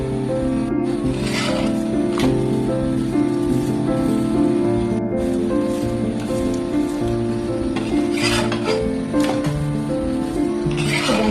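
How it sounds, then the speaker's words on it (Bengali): A fried roti toasting lightly in a pan on a gas stove sizzles loud and close, a dense continuous crackle like rain with a steady low hum beneath it. "এখন আমি এটাই এরকম একটু হালকা করে সেঁকে নেব"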